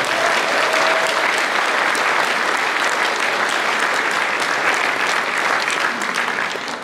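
An indoor audience at a political party rally and inauguration claps in a loud, sustained round of applause that fades slightly at the end.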